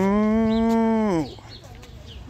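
A dairy cow on a farm gives one long, loud low moo close by, ending abruptly and leaving quiet barn ambience with faint background sounds.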